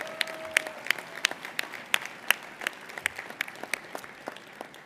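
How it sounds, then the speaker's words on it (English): Applause at an annual Oxford House banquet, a modest crowd clapping in a loose, fairly sparse patter with distinct individual claps, moderately close and fading slightly toward the end. "let's give them a round of applause as well"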